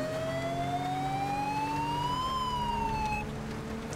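Police car sirens wail steadily in the GTA V LSPDFR mod, a loud continuous siren tone that slowly rises and then falls in pitch, with no talking over it.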